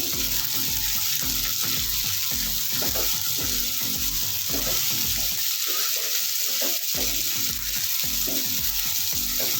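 Mixed vegetables and peas sizzle steadily in a pan for veg pulao, with a continuous close crackle and occasional scraping as they are stirred.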